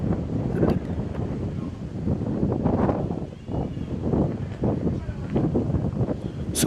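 Strong wind buffets the microphone at an outdoor cricket ground during a domestic match, a continuous loud rumbling gust with low roar, swelling and easing throughout.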